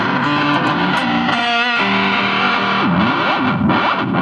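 An overdriven electric guitar runs through a Mooer Reecho delay pedal, playing loud chords and bent notes with warbling, swept echo repeats that smear continuously throughout.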